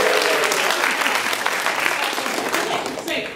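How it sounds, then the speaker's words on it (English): An audience at a hooping event in Alameda breaks into loud, dense applause that carries on throughout, with a voice speaking over the clapping. "Give them a round of applause."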